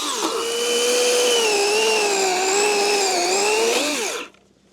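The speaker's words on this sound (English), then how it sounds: "One thing about these electric chainsaws, man, they got power." An electric chainsaw runs at a tent camp, a loud close high-pitched whine that wavers slightly in pitch as it cuts, holding steady for about four seconds before cutting off abruptly.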